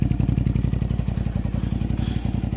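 A Japanese V-twin superbike engine idles close by with a steady, lumpy, loping pulse, loud and uninterrupted, with no voices over it.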